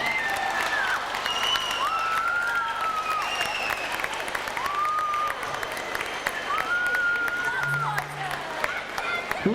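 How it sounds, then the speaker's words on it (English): A hall audience claps steadily at a 1999 community event, a broad wash of many hands under cheers and chatter, while a clear voice rises and falls above the crowd. "I think that deserves the biggest round of applause from this hall."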